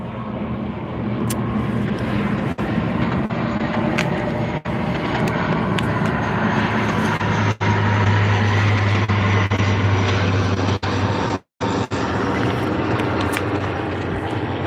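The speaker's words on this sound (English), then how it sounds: "We got a plane going over, so we'll just stop talking for a second." A small, noisy propeller plane drones steadily overhead above a boat on the water, a loud continuous engine hum that holds for the whole stretch with a few brief dropouts and no talking.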